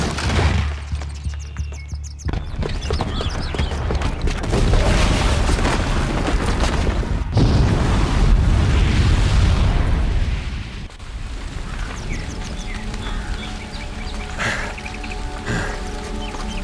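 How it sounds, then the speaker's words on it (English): A booby-trapped bomb detonates in Horizon Zero Dawn: loud, sustained booming rumble with crackling debris rolling on for many seconds, a sharp blast midway, then a lower ongoing roar with scattered pops. "the booby trap on the bomb downstairs is gonna get set off"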